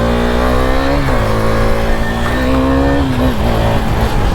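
A motorbike engine revs loudly and continuously with rising and falling pitch as the rider pops a wheelie, the exhaust note steady and close throughout.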